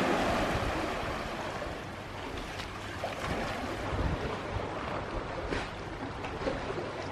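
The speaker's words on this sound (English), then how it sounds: "Can you actually hear the water?" Sea water and waves in the Maldives wash and hiss continuously at close range, with steady wind buffeting the microphone throughout and no voices.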